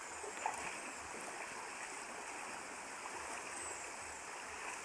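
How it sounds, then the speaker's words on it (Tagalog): Steady, soft rushing of a nearby river, a continuous broadband wash running without pause, with no voices. "malapit yung ilog dito"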